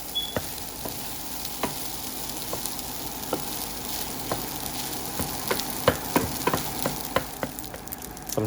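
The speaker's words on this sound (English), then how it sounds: "Stir fry your rice" Bacon fried rice is stir-fried in a wok with salt, black pepper and thin soy sauce, and a steady sizzle runs under a string of sharp metal scrapes and taps from the stirring that come faster toward the end.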